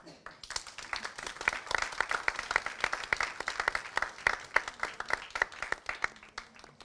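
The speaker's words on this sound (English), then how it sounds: "a big round of applause for every one of them" Sustained applause from an audience at a dance research congress event in Dadar, Mumbai, dense overlapping claps lasting several seconds with steady, moderately loud intensity.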